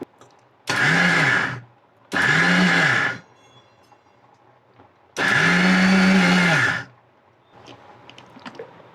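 Mixer grinder coarsely crushing garlic, cumin and spices for a Kerala red spinach and jackfruit seed stir-fry, running in three loud, steady whirring bursts with short pauses between, the last one longest.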